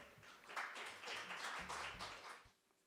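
Audience applause welcomes the director of the National Institute of Ecology at an international symposium, a soft, distant patter of many hands clapping for a few seconds before fading out.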